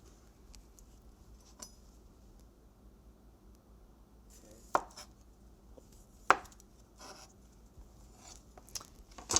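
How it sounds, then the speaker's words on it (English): Knife work on golden beets, trimming ends and peeling: sparse quiet scrapes and a few sharp cutting taps against a board in an otherwise still room, with no voices. "when you do your beets, you wanna trim the ends and then peel from there"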